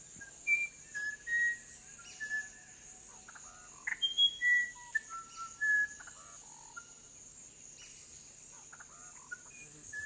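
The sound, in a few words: indigenous man imitating a bird in the Amazon forest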